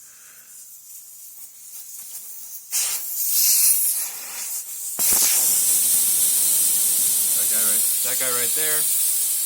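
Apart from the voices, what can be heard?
tire deflating with air hissing out after valve core removed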